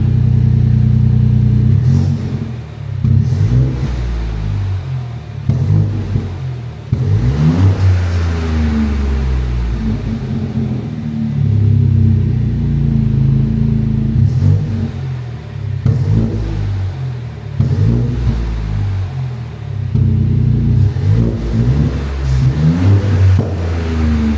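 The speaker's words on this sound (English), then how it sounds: "So we've let it have a little warm up. Get a couple of revs, see what it sounds like" A BMW 218i (F22/F23) with a modified aftermarket exhaust revs repeatedly while warming up at idle, deep loud engine note rising and falling in several blips, close by with no talking.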